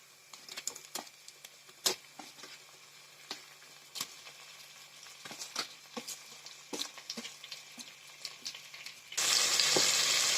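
Chicken pieces fry with onion and ginger-garlic paste for an Assamese local chicken curry, crackling in scattered sharp pops over a low sizzle, then a loud burst of hissing as more goes into the hot pan.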